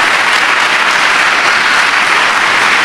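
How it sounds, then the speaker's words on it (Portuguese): A church congregation claps together in steady, dense applause that fills the space at close range and carries on without a break, with no voices over it. "E as palmas são para Jesus."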